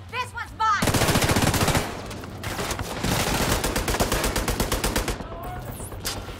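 Heavy sustained gunfire in The Division 2 video game, loud and continuous automatic bursts dominating for several seconds, with excited voices briefly heard at the start.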